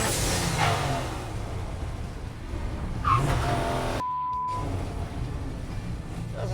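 A 1965 Chevy C10 Fleetside pickup drives down a drag strip with its engine droning steadily, the pitch rising and shifting as the truck accelerates, loud and continuous.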